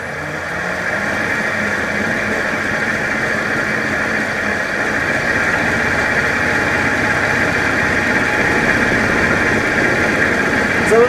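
A wood lathe spins a punky sycamore pedestal bowl at about 1,000 RPM, a steady whirring motor drone with a rumbling, fluttering undertone that runs continuously and fairly loud without talk.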